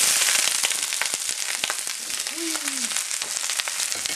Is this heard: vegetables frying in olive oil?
yes